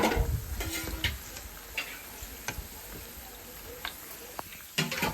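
Vada batter sizzles and crackles in hot frying oil in a home kitchen, a steady bubbling hiss with occasional clinks of a ladle or spoon against the pan.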